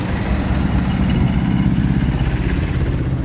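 A diesel Royal Enfield Bullet motorcycle runs after an electric self-start, giving a steady, loud, low chugging idle close up with no talking over it.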